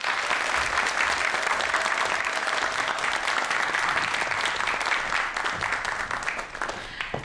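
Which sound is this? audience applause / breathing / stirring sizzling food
audience applause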